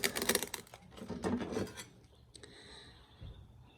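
A small handsaw rasps back and forth through craft material, cutting out a headpiece shape; several quick close strokes, then quieter scraping and a short knock near the end.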